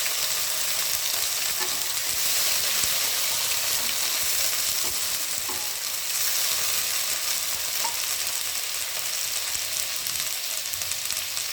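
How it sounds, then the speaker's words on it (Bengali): Whole cumin seeds and dried red chillies crackle in hot oil as a tempering for a prawn and taro curry. A dense, even sizzle holds steady and loud from start to finish, close by, with no voices. "গোটা জিরে আর শুকনো লঙ্কা ফোড়ন দেব।"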